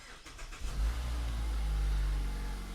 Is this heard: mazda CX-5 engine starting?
yes